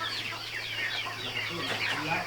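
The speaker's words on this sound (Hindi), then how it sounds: "ये सिल्की बर्ड है।" Silkie chickens cluck on a poultry farm, a busy overlapping chorus of close clucks and squawks, with farm noise in the background.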